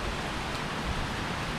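Steady rain pours onto a small shelter roof along a road in Italy, a dense, even hiss with faint low patter, continuous and close throughout, no voices.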